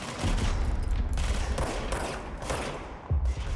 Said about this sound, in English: He's shooting an assault rifle like it's a shotgun